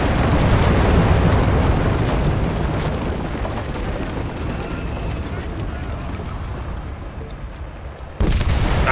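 Bomb blast in the WWII shooter Enlisted, Moscow battle: a loud, dense wall of rumbling explosions and crackling gunfire fills the whole stretch, with a sudden fresh burst near the end, while a player talks over it.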